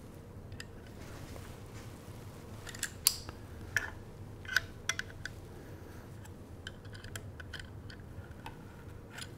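Rifle chassis action screws are tightened to torque spec, with small metallic clicks and ticks scattered over a quiet background, a few louder clicks clustered in the middle.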